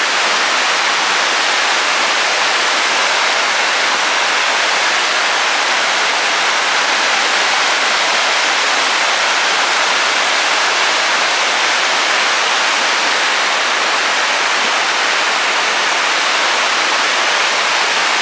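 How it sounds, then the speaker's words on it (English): A river running full after rain rushes steadily, a loud continuous roar of water with no pauses and no voices, in the Great Smoky Mountains near Elkmont Campground. "So let's look at this beautiful river right quick. Should be nice and full after the rain"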